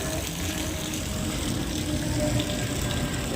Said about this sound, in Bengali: দেখুন সেই কোথা দিয়ে জলটা উঠছে দেখুন